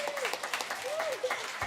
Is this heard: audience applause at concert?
yes